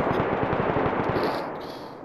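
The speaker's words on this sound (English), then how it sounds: "Is that you I'm shooting at?" Rapid automatic gunfire in a video game, a quick burst of a dozen or so evenly spaced shots that then fades into a trailing echo.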